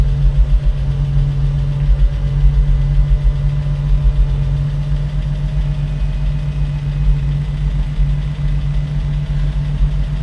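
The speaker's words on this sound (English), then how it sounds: "It is a cold start. This thing has been sitting over the weekend." A 1960 Cadillac Series 62 engine idles after a cold start, a loud, steady low rumble with a faint rhythmic pulsing throughout and no speech.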